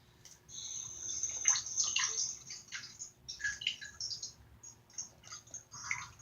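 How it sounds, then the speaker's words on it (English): Running water splashes and trickles as someone washes their hands, uneven bursts of flowing and spattering water over a low background hum, moderately faint and close. "that's just him washing his hands now"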